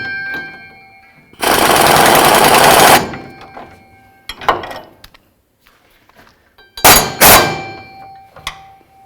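Rear shock bolts on a 1992-99 GMC K1500 are tightened with a loud, close burst of an impact wrench lasting over a second, followed by metallic clanks and a second short rattling burst.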